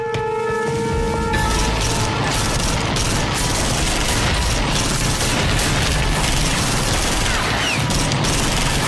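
Loud, relentless gunfire in a 1997 film, a dense barrage of automatic shots and booms that begins abruptly after a brief tonal lead-in and continues without pause.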